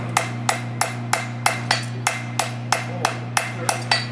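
A farrier hammers a horseshoe on an anvil while shoeing a horse, about a dozen sharp, ringing metallic strikes at an even, quick rhythm, close and clear with a steady hum beneath and no talk.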